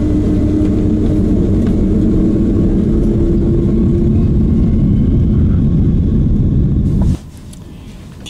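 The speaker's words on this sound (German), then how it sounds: "Die Turbinen haben Volllast. Das Flugzeug wird schneller und schneller." Loud, steady roar of an airliner's jet engines at full thrust during takeoff acceleration, a dense rumbling drone that holds for several seconds and then cuts off abruptly.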